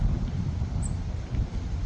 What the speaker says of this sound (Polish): No teraz się taki wiatr zerwał